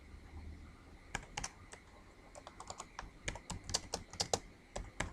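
Fingers type on a computer keyboard while writing HTML for a first web page, a run of quick, close key clicks in irregular bursts that grow denser toward the end, with no talking.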